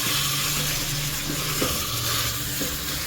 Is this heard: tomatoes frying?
yes